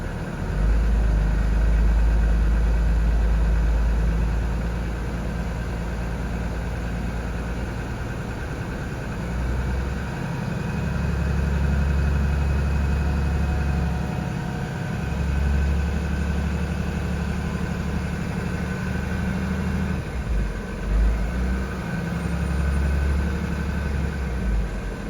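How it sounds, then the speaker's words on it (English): A bus engine idles steadily with a deep, constant rumble while its air brake tanks fill, with no voices over it. "I'm going to start the bus and fill my tanks."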